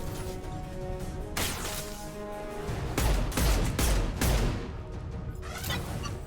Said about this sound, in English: Explosions happened.